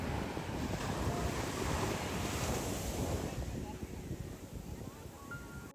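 Surf and wind at Marari Beach in Alappuzha: a dense, steady wash of breaking waves with gusting wind buffeting the microphone, loud and continuous throughout.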